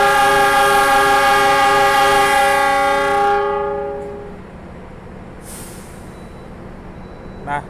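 A Majapahit economy train sounds a long, loud horn blast as it departs, then the horn cuts off, leaving a lower rumble of the moving train and a faint hiss near the end.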